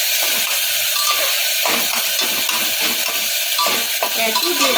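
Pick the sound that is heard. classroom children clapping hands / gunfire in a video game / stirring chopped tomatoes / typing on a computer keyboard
stirring chopped tomatoes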